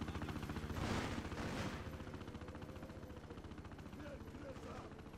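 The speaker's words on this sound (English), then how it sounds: "Can I hear a helicopter? Oh, I can." Helicopter in the video game Freedom Fighters, a steady rhythmic rotor chop running throughout, mixed with game gunfire and battle noise.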